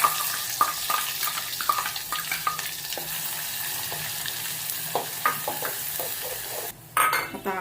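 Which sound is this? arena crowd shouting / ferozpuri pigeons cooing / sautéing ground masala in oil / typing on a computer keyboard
sautéing ground masala in oil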